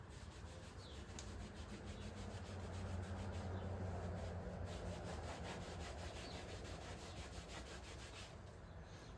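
A rag scrubs tall riding boots back and forth, a continuous close rubbing and swishing in a steady rhythm, fairly quiet and without talk.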